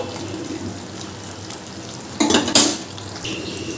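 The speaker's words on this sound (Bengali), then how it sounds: "মিক্সির বাটি ধোয়া জলটা দিয়ে আবারও নেড়ে দিয়ে কিছুক্ষণের জন্য আবার ঢেকে রাখবো।" Spoon stirring desi chicken curry in a pot, with a few sharp scraping clinks against the metal midway over a steady low simmer hiss.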